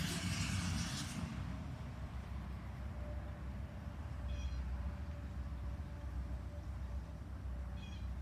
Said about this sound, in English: It's a little noisy with traffic right now.